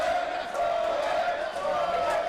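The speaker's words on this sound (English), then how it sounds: "With the crowd getting behind Sawyer wreck." Crowd noise at a wrestling street fight, a steady sustained roar of cheering from a large audience throughout, with no clear individual voices.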